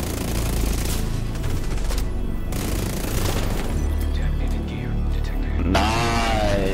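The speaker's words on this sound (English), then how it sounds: "Shooting people through walls" Sustained gunfire from Tom Clancy's The Division 2, dense bursts of automatic shots mixed with booms and rumbling action noise, loud and continuous with no talking.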